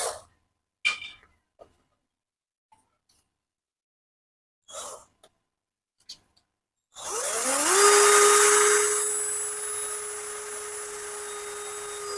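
A 12V cordless battery drill with an upgraded battery is run for an RPM test. A few scattered handling clicks come first, then the motor spins up with a rising whine and settles into a steady high-pitched hum close by.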